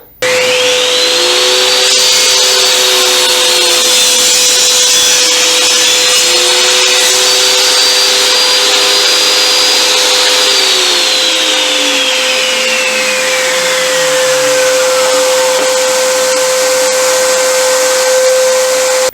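A table saw spins up with a rising whine and cuts through a wooden push stick at a 70-degree angle, the loud motor pitch dipping under load and then winding down slowly, with no talking.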